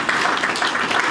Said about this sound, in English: giving a round of applause to the General Manager